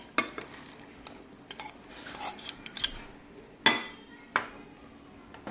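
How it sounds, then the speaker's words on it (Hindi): Nachos bhel being tossed together in a bowl, with scattered clinks and scrapes of a spoon against the dish and a crisp rustle of chips, a few sharper knocks standing out near the middle and end. "अब हम इन नैचोज के अंदर इन्हें हम मिक्स कर लेते हैं।"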